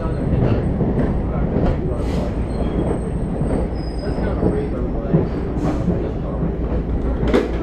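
A museum tour train at a transportation museum rolls to a stop, wheels squealing and rails clicking in a steady, fairly close rumble with faint talk underneath.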